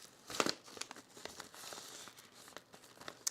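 Fabric pattern pieces for a shirt being folded and handled, giving soft crinkling and rustling with a sharper crumple near the start and scattered light brushes and taps throughout, close by with no talk.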